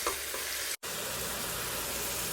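Jerk chicken shrimp pasta ingredients sizzle quietly in a pan, a soft, even frying hiss broken once by a brief drop to silence.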